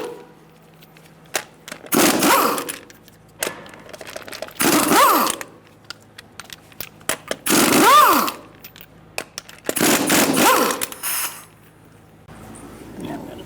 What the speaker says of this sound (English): we're going to use a 19mm socket and take the wheel off